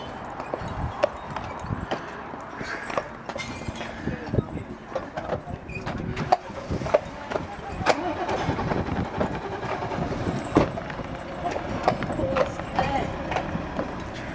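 Hooves of a horse pulling the Douglas horse tram on the Isle of Man clip-clop in an uneven rhythm along the seaside line, mixed with rolling tram noise, while a voice narrates over the sound.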